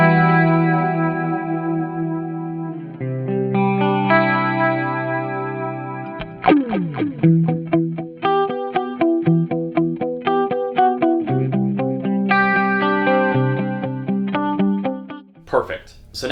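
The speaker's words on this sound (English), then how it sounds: "I'm going to select the USA Clean amplifier type, effectively the clean channel of this same amplifier. I have my chorus, my delay." Clean electric guitar through a Fractal AX8 on its USA Clean amp model with chorus and delay, played alone as sustained chords and picked melodic phrases with shimmering, echoing tails, close and clear.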